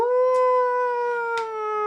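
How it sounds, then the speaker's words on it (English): Wolves howl at night in a tabletop fantasy role-play scene, a long sustained mournful tone with rich harmonics that glides slowly downward, loud and close, with faint scratchy noises interrupting briefly. "you hear that howling"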